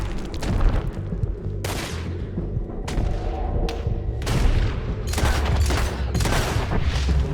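Gunfire erupts in Red Dead Redemption 2 as repeated sharp bursts of shots crack out in quick succession, loud and close, with short gaps between volleys.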